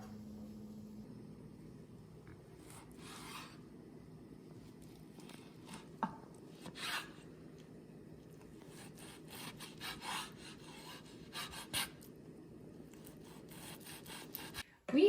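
A knife slices through a rested bison ribeye steak in short, scraping strokes, with faint rasping cuts spread across a quiet background.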